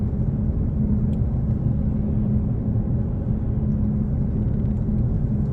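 A car cruising at highway speed during a driving test, with a steady, continuous road and engine rumble and tire noise filling the cabin throughout, no voices.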